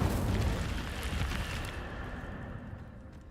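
Incendio fire spell cast in Hogwarts Legacy: a loud, whooshing burst of flame that flares at once, then roars and slowly dies away over a few seconds, heard alone.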